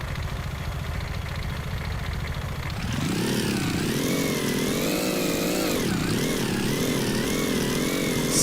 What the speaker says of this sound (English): Sound like a motorbike.